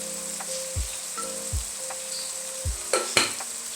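Mash daal being stirred with masala in a pan, a constant close sizzle broken by regular scraping strokes of a spoon against the pan, several in a row with a couple of sharper clacks near the end.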